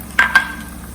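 A spoon stirs paneer masala with tomato gravy in a pan, giving two short scraping strokes over a soft, steady sizzle, close and fairly loud, with no talking.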